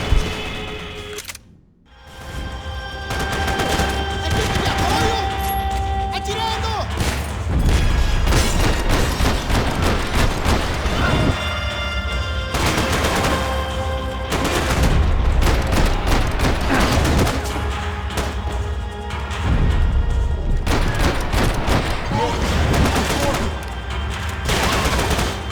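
Rapid bursts of gunfire crackle repeatedly over a constant electronic background, with brief lulls between volleys, from shooting in the video game Max Payne 3.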